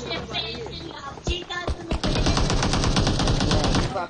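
Rapid automatic gunfire in PUBG Mobile, a few isolated shots giving way to a dense, sustained burst of rattling fire, loud and close, with some voice mixed in.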